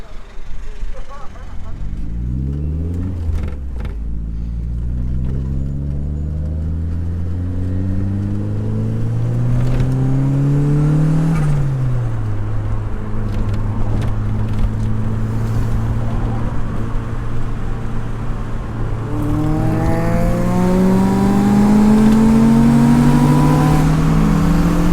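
A K20-swapped Honda Jazz engine, heard from inside the car during a ride-along at a car meet, revs hard and accelerates through repeated rising gear pulls, loud and close, with brief shifts between climbs.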